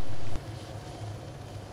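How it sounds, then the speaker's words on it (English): A helicopter flies over the Altis map in ARMA 3, producing a steady low engine drone with a rhythmic rotor throb, loud and continuous with no talking. "Not that good of a pilot with this helicopter."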